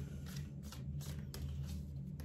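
Oracle cards shuffled and laid out on a table, with soft repeated papery riffles and slides close by over a steady low hum, no talking.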